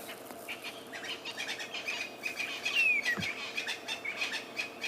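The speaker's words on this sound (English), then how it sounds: "You can hear the francolins." Outdoor francolin calls ring out over a steady natural background at sunrise on an African safari, with repeated chirping notes and a few wingbeats, moderately distant and fairly faint.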